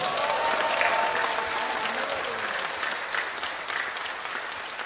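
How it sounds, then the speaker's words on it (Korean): A lecture hall audience applauds at a political talk, a loud, dense wall of clapping from a large crowd that holds steady for several seconds, a voice faintly audible beneath the start. "문재인 대통령을 위해서 박수 한번 보내주시기 바랍니다"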